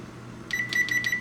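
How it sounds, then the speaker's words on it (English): A kitchen timer, set while baked beans cook in the oven, gives a quick series of about five sharp, high electronic beeps in an otherwise quiet kitchen. "So I'm going to start the timer at"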